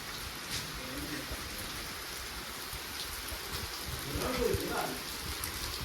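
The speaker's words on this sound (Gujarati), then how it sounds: "કન્ટિન્યુ એક કલાકથી વરસાદ ચાલુ છે" Heavy rain falls steadily near a village river during an hour-long downpour, a broad even hiss with faint voices briefly rising beneath it toward the end.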